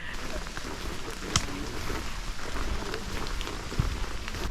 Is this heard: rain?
yes